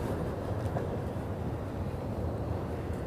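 A train crosses the river trestle in Dubuque, Iowa, heard from a distance as a steady low rumble of rolling railcars that holds at an even level throughout, with no voices.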